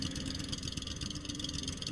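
A boat engine idles in the survival game Stranded Deep, a steady, droning mid-pitched hum with a fine rapid pulsing, fairly faint and continuous without any speech.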